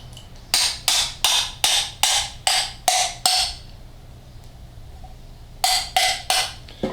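A water pump guide sleeve on a Chevrolet HHR engine being tapped into place with a hammer: eight sharp, evenly spaced metallic blows, a pause, then four more.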